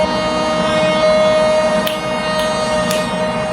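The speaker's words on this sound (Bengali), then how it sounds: "মারাত্মক লেভেলের হর্ন, মারাত্মক লেভেল।" A steady, loud train horn from a train driving video game, sounding continuously over a low rumbling drone, with a few brief clicks near the end.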